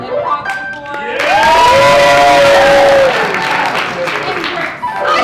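Loud applause and cheering from the audience at a musical improv show, with whoops and a sung or shouted voice rising over the clapping before it tapers off.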